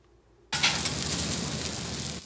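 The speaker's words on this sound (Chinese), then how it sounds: "大块牛排在铁板上煎得滋滋作响" Loud, dense sizzle of large beef steaks frying on a hot iron griddle plate at a budget steakhouse in Kaohsiung. It bursts in abruptly after a quiet half second and holds steady, close and crackling, with no talking.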